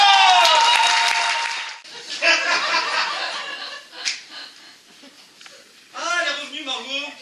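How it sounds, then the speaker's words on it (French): Comedy club audience applauding and laughing for a comedian, with bursts of clapping and chuckles broken by short lulls and a fresh swell near the end, while an emcee's voice talks over it. "on vous demande de faire un tonnerre d'applaudissements pour Aude"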